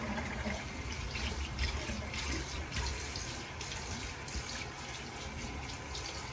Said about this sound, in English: let's get this all rinsed and cleaned up